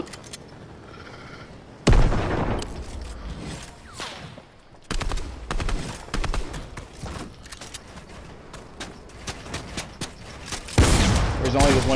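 A rocket explodes and gunfire rattles in Fortnite: a few loud, sharp blasts stand out among bursts of rapid shots and clattering impacts spread across the scene.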